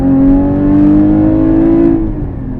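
Sharkwerks-tuned 415 hp Porsche Cayman GT4 pulling hard in first gear, a loud, close engine note climbing steadily in pitch for about two seconds before easing off, heard alone without speech.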